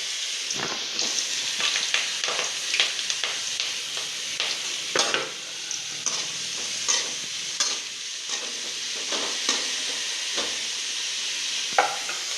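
Chopped large onions frying in hot oil with curry leaves in a home kitchen, a steady broad sizzle with frequent scraping stir strokes and clinks, close and alone with no voices.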